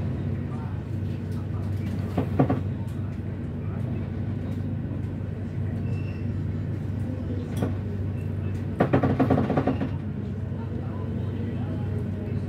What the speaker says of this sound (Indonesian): Kereta api